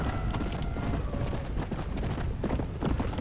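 Horse hooves clip-clop in a rhythmic gallop in the video game Red Dead Redemption Undead Nightmare, steady and close, mixed with saddle rattles and ambient game noise.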